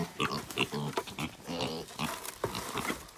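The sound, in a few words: pig grunting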